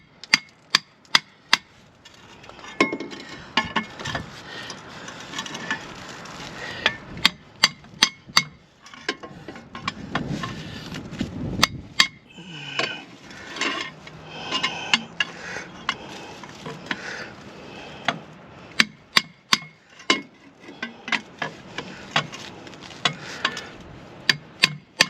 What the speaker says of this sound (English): I'm gonna do little taps with my hammer like that